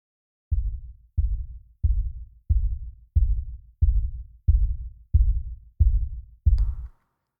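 Ten deep, punchy kick drum hits repeat at an even pace, each a short thump that decays quickly, the last one with a brief bright click.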